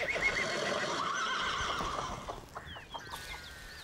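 A racehorse at a racecourse whinnies loudly in a long, shaky neigh that fills the first half, then trails off into softer snorts and movement with no voices.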